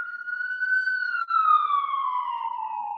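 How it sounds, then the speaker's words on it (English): A passing emergency siren, a single loud wailing tone that holds steady and then slowly drops in pitch as it moves away, heard alone without talk. "siren's coming by really quick"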